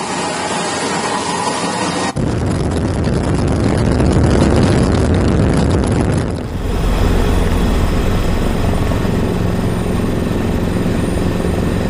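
Loud, continuous rotor and engine roar of an Indonesian Air Force Caracal helicopter heard from on board, shifting in tone twice as the craft changes position, with no talking.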